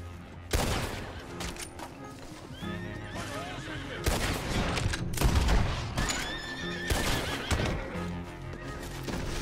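Horse neighs and whinnies ring out over bursts of gunfire in the Western open-world video game Red Dead Redemption 2, with hoof clip-clops and loud game sound effects dominating throughout.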